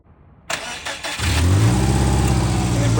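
A Subaru Outback's engine cranks with a short whirring starter burst, then catches and settles into a loud, steady idle close by during a front passenger wheel bearing replacement.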